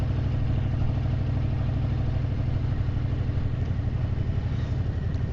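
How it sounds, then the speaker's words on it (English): A Harley-Davidson Breakout 114 cruising in fourth gear at about 30 mph gives a steady, loud, low rumbling drone with an even, pulsing beat throughout, close to the rider and with no talking. "I'll keep it in fourth because such good torque on this engine, it will plod along 30 in fourth, no worries at all."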